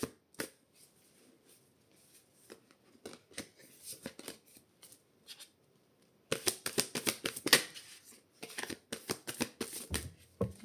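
Tarot cards are handled, shuffled and drawn in quiet, scattered dry flicks and snaps that turn into a denser, faster run of card shuffling toward the end.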